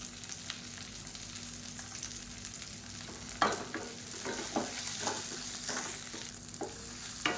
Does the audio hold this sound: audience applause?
no